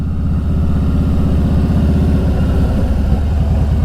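A motorcycle engine runs steadily up close, a loud, even low rumble with a pulsing beat that holds for the whole stretch, with no voices.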